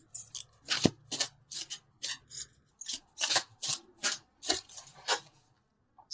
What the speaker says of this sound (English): So let's pull a couple universal love cards.